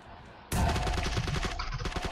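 Rapid automatic gunfire in PUBG Lite on PC erupts suddenly after a quiet start, a loud, dense burst of many close shots in quick rhythm that continues to the end.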